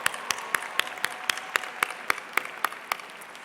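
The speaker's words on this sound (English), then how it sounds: "Please join me in thanking the Glee Club under the direction of Dr. Kevin Johnson with another round of applause" At a college commencement, a small audience claps in slow, evenly spaced applause, each clap distinct and crisp, steady through the stretch with no voices over it.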